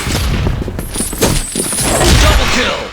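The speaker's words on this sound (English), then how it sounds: "Live grenade!" Loud, dense rumbling blast of a grenade explosion in the first-person shooter CrossFire, filling the whole span with booming, crackling debris and gunfire-like bursts.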